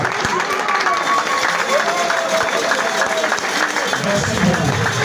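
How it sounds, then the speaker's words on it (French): Crowd applause at a UDPS political gathering, dense continuous clapping and murmuring from a large audience, loud and steady throughout with a few distinct claps standing out. "Sous votre applaudissement,"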